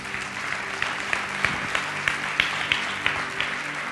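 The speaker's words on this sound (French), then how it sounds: "On l'applaudit." Church congregation applauding in steady rhythmic clapping, a moderately loud crowd of hands beating in time for the whole stretch, with no voices standing out.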